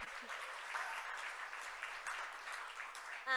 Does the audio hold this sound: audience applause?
yes